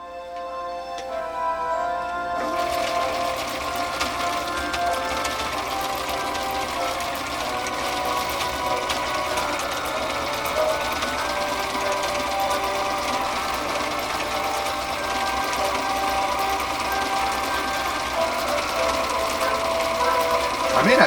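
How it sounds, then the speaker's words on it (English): A Husqvarna Viking 6030 sewing machine stitches a decorative sailboat pattern, a dense, continuous mechanical whir with rapid needle ticking that starts after a short quiet lead-in and runs steadily and close to the end. "I'll sew this off and then I'll show you what that looks like"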